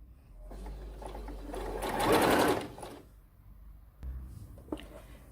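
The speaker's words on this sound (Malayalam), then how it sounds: "കണ്ടോ, ഫുള്ള് ഞാൻ തയ്ച്ചെടുത്തിട്ടുണ്ട്." A sewing machine stitches a pleated skirt in short bursts, whirring up to a loud run in the middle, then stopping and restarting briefly, close by.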